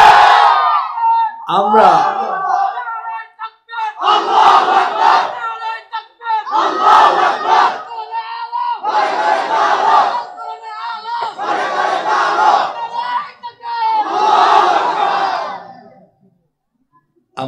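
A large crowd loudly chants the slogan Allahu Akbar in about six repeated, rhythmic bursts with short pauses between them, after a lone voice calls out to lead the chant.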